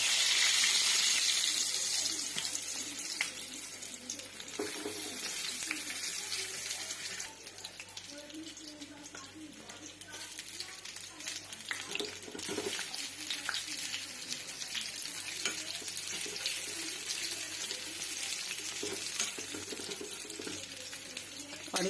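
Patra, colocasia leaf rolls, fry in hot oil in a kadhai, giving a steady bright sizzle that is loudest at the start and continues through the clip.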